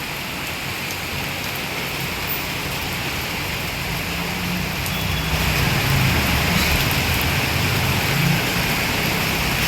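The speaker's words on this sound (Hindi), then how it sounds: "बहुत ज़्यादा बारिश हो रही है" Heavy rain pours down steadily and loudly at a home, a dense continuous hiss that swells slightly in the second half, with no voices.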